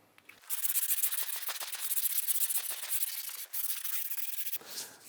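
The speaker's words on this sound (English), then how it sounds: "So you need to go over the whole of the back of the pallet and just get rid of any fluffy bits." The back of a wooden pallet being sanded by hand to remove splinters: a close, hissing rasp in fast back-and-forth strokes, steady for several seconds with one short pause.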